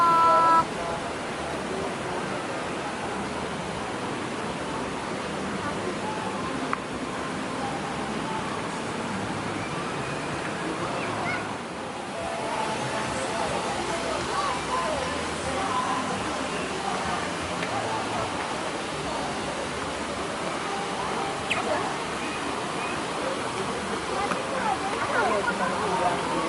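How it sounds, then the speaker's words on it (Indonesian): Continuous rushing water roars steadily throughout, a dense broadband wash from the Jumog waterfall in Tawangmangu, Karanganyar, Indonesia, with faint voices occasionally under it. "Selanjutnya kita ke air terjun Jumak."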